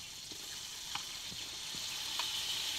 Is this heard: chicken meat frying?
yes